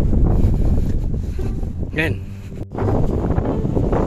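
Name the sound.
wind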